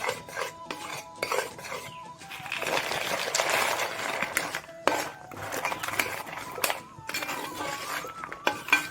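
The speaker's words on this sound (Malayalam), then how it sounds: "ഇതിനകത്ത് നമുക്ക് വറുത്ത് വെച്ചിരിക്കുന്ന കായ ഇട്ട് കൊടുക്കാം" Crisp fried banana pieces rattle and clatter into a metal pan for jaggery-coated sharkara varatty, followed by steady scraping and clinking of a utensil stirring them.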